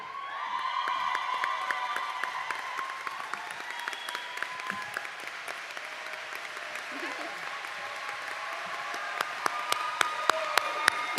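A large commencement audience applauds the graduating class of 2025 with sustained clapping and some cheering that swells and carries on, with scattered sharp claps near the microphone toward the end.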